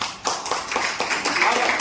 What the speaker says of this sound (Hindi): इनके लिए एक जोरदार ताली है।